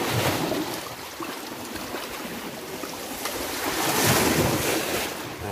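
Ocean waves surge and wash through a sea cave on the Curacao coast, a steady loud roar of churning surf with wind buffeting the microphone, swelling stronger near the end.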